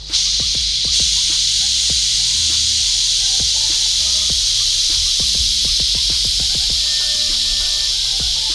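A coolant pressure tester valve on a 2005 GMC Sierra cooling system lets out pressure as a steady loud hiss, with scattered clicks and taps running beneath it.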